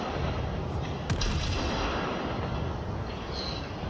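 Warship guns firing a broadside in the naval video game World of Warships, a sustained dense rumble of heavy gunfire with a sharp crack about a second in.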